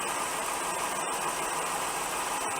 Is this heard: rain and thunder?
no